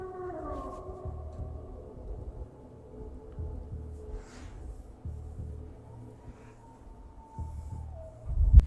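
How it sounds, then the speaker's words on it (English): Wolves howl in long overlapping wavering cries from a played recording, moderately loud and somewhat distant, rising and falling in pitch over a low rumbling background. "To me, that just sounds like wolves."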